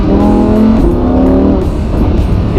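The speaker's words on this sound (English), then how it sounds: "The valves of the exhaust are open, and now we can hear the glorious sound of the V10 engine." Lamborghini Huracan V10 engine in sport mode with exhaust valves open, a loud, close, continuous throaty roar with rising harmonic tones as it revs, heard alone.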